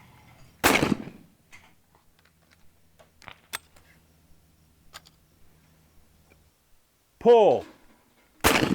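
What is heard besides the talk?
shotgun firing at clay targets in skeet shooting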